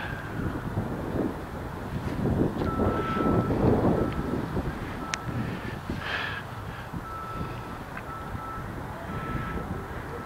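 Wind blows outdoors across the microphone in uneven gusts, rumbling louder in the middle and easing later, with faint distant tones and brief clicks in the background.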